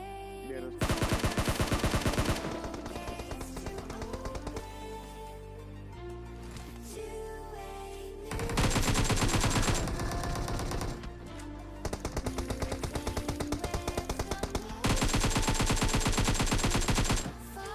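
Automatic gunfire in the PUBG Mobile battle royale game, repeated loud, dense bursts separated by short pauses, close and continuous, over a steady background with no voices.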